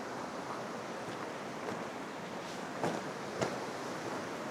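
River rapids in wintry Ylivieska, Finland, roar as a steady broadband rush of water heard from the bank, with wind buffeting the microphone and a couple of brief gusts standing out.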